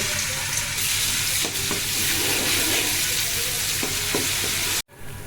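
Ginger paste fries in hot oil in a pan for a fish curry, giving a loud, steady sizzle with light stirring scrapes, ending in a sudden brief cutoff.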